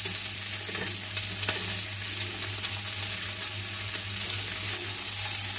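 Chopped onions, three large ones, sizzle and crackle steadily in hot oil in a pan, with a constant hiss and occasional scraping of the stirring spoon, close and continuous with no talking.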